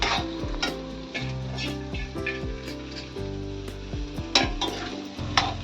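Sprouted mung bean curry being sautéed in a pan: a loud, close sizzle with repeated scraping and clinking strokes of a spoon against the pan, irregular in rhythm and without any talking.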